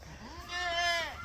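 A single goat in a pen lets out a clear, wavering bleat lasting about a second, close and moderately loud over a low rumble of background noise.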